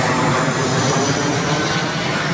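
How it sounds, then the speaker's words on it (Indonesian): An airplane passes overhead, a loud, steady broadband engine roar filling the whole stretch with no voices. "ada pesawat lewat"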